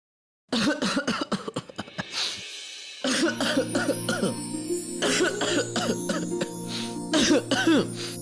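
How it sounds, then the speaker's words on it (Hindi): A man coughs in repeated harsh bursts, hacking and clearing his throat, loud and close, while a sustained musical tone drones underneath. "हो गई ना खांसी?"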